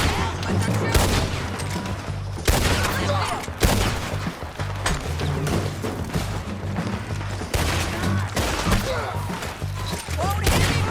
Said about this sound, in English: Can you help with the shooting?